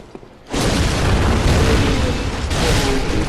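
An enemy fires a gun in Bloodborne: a sudden loud boom after a quiet start, followed by a sustained roaring, rumbling blast that fills the rest of the moment.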